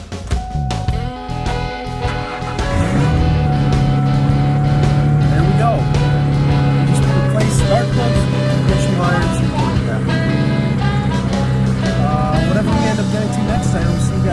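A 2004 Ford Mustang V6, freshly tuned up with new plugs, wires and coil, cranks and catches at about two seconds, then settles into a steady, loud, close idle hum with voices over it.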